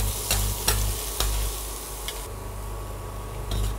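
Ginger and garlic pieces fry with cumin and a pinch of asafoetida in a hot pan, a steady sizzle and crackle broken by sharp clinks of a spoon stirring against the pan, close and loud, with no talk.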